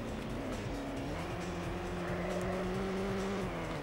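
A racing car in a Lotus video game brakes hard with a tire squeal, the engine note sliding down as it slows, the sound steady and continuous under a layer of game noise with no talking.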